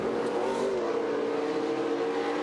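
Off-road race trucks run a high-banked track, a steady loud engine roar holding a sustained drone with a slight pitch shift as the trucks pass, continuous and dense throughout.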